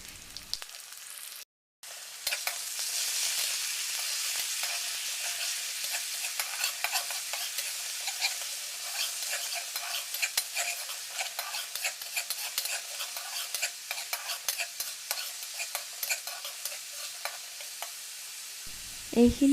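Onion paste fries in hot oil in a pan for an Assamese fish curry while a spoon stirs it, making a continuous soft sizzle with frequent scraping stirs that runs for a long stretch with no talking.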